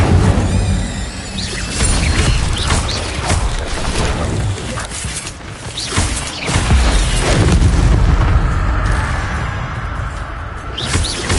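Spell combat in Hogwarts Legacy with an Incendio fire spell cast, loud booming blasts and crashing bursts layered over a dense game soundtrack, continuous and full for several seconds.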